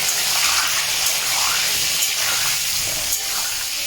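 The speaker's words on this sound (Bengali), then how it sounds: "এই আলুটাকে আমরা কড়াইতে ছেড়ে দেবো, ভেজে তুলে নেবো" Potatoes frying in hot oil give a loud, steady sizzle, close by and continuous, with light scraping now and then.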